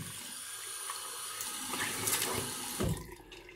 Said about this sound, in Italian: quindi adesso me lo bagno il viso.